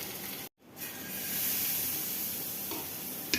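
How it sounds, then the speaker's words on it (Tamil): Dosa batter poured onto a hot pan for an egg masala curry dosa. After a brief silent gap the batter hits the pan, and a loud, even sizzle swells and holds steady, with no talking. "இப்போ நம்ம தோசை ஊற்றிக்கலாம் ஃப்ரெண்ட்ஸ்."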